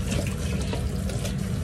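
Tap water runs hard and steadily into a kitchen sink while garlic shrimp is being prepared, a loud continuous splashing rush with no voices.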